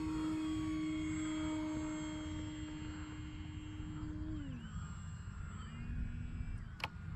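An E-flite Maule M-7 RC airplane on 4S power drones overhead with a steady high-pitched electric motor whine that drops in pitch as the throttle eases, heard alone outdoors.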